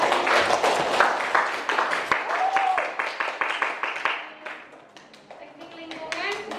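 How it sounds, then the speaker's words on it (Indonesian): A classroom group claps in applause, a dense burst of many hands that thins out midway and then picks up again, with children's voices chattering over it. "tepuk tangan"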